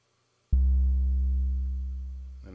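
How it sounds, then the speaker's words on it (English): A single sustained synth tone from a Maschine melody with reverb and distortion applied starts abruptly and rings loud and thick, slowly fading over about two seconds before a second note begins. "A little bit of distortion."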